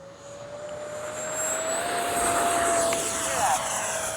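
A Freewing F-16 70mm RC jet flies overhead with a steady, high electric ducted-fan whine that swells louder as it passes near, and someone talks in the background.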